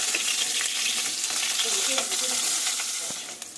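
Vegetable stalks fry in a pan with a loud, continuous sizzling crackle, joined by occasional stirring scrapes, that eases slightly near the end.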